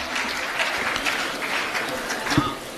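Audience applause at a Hindi comic poetry recital about Lord Ram, steady moderate clapping from a gathered crowd, with some voices mixed in.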